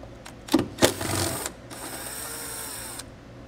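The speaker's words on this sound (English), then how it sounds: "we'll take an 8mm socket and remove the bolt behind it." An 8mm socket removes a bolt on a 2021 BMW X5 during a hidden trailer hitch install: a few sharp clicks and clatters, then a brief steady mechanical whir, close and without speech.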